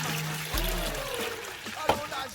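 Water running into a small basin in a home kitchen, a steady close pour with splashing, set down for soaking beans.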